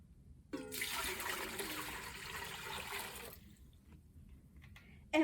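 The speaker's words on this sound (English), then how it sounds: "So the visitor filled his pot with water" Water pours steadily into a cooking pot for about three seconds, a fairly loud rushing splash, then stops and leaves near quiet with a few faint knocks.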